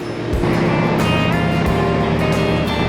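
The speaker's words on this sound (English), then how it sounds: "I don't know if you can probably hear me with the sounds of these noisy engines" Noisy train engines drone loudly and continuously nearby during a rail journey, a dense, heavy rumble with a few sharp thumps and no voices over it.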